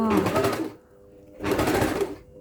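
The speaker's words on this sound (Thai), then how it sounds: "ตอนเย็บเราก็ย้ำก่อนนะคะ ค่อยค่อยเย็บนะคะ" A sewing machine stitches a dart in a skirt in two bursts of rapid mechanical whirring, close and fairly loud, with a short pause between them.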